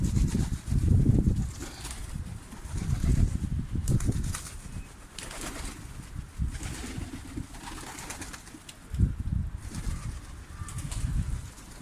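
A homing pigeon flaps its wings hard as it circles down to land, heavy repeated wingbeats in bursts, close and loud, with no talk over them.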